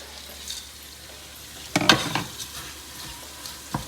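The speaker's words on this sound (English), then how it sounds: "And then I'm going to add the onions back in." Onions added back into a hot pan while cooking Indian food, with a brief burst of sizzling and stirring clatter in the middle, then quieter frying and a sharp utensil tap near the end.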